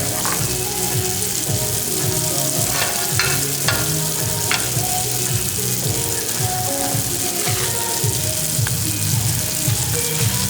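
Olive oil sizzles steadily in a hot pan, a continuous crackling hiss with occasional sharper pops and light clinks throughout.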